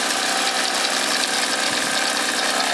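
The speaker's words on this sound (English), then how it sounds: "Don't forget the carburetor running smoothly." A 49cc egg motor engine runs steadily on a first test, its buzzing, rattly drone close and loud throughout with no pauses or speech.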